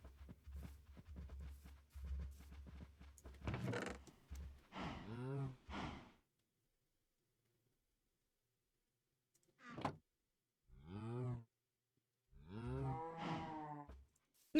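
Cows in the video game Minecraft low several times, drawn-out moos coming in separate bursts with quiet gaps between them, alongside a few short game clicks and footsteps.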